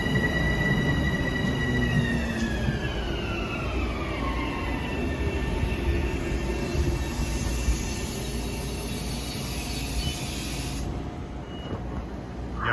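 A Metro North holiday train rolls past with a sustained rumble, a long descending whine, a hiss and faint wheel squeal, loud and near, with no talking.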